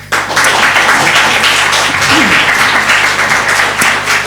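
An audience applauds to welcome a speaker at an evening lecture in Fano: dense, steady clapping from many hands fills the room at a loud, even level for several seconds.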